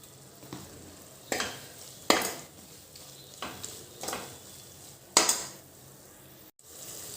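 Spices sautéing in hot oil in a pan for sambar, a soft background sizzle broken by several sharp scraping strokes of a spoon against the pan, fairly close and quiet.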